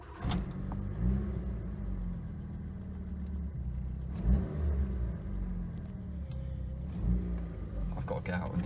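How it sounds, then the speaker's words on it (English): A 1989 Fiat Uno 45S engine runs with a steady, close low rumble throughout, rising slightly in a couple of spots, with light handling clatter over it. "And now we'll start it up."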